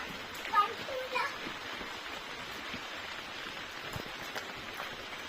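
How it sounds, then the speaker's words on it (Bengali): Light rain patters steadily on plastic outdoors, a soft, even, faint tapping hiss with a few brief voices in the background early on. "কেমন টিপটিপ আওয়াজ হচ্ছে বুঝতে পারছেন, কারণ প্লাস্টিকের উপরে বৃষ্টি পড়ছে।"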